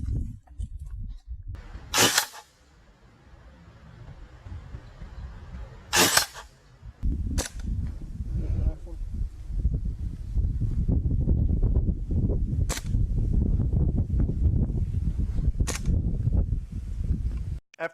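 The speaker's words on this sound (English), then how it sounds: "So we're going to start off by shooting close up." A Springfield Armory M1 Carbine BB gun fires at a small tuna can about ten feet away outdoors, several sharp, isolated snaps spaced seconds apart over light wind rumble and handling noise.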